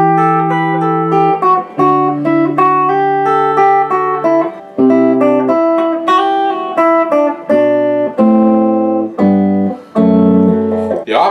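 A Gibson Melody Maker electric guitar plays a clean passage where a low bass note holds steady while an upper melody line steps through changing notes, played alone with short breaks between phrases.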